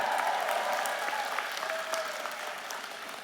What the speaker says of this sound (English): Let's hear a big cheer from our new graduates.